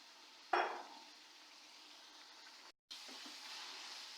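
Cauliflower for a gobhi gosht dish dropped into hot oil with beef and masala, giving a sudden sharp sizzle that fades into a soft steady frying hiss, then a brief break and a renewed gentle crackle.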